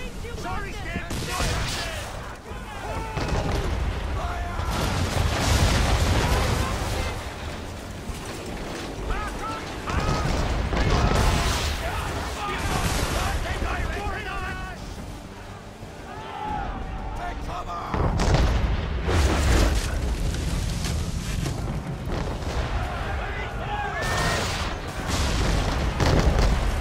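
Cannon fire in Assassin's Creed III, with heavy booms and creaking, ratcheting ship mechanisms in a dense, continuous battle mix. Voices talk over the action throughout.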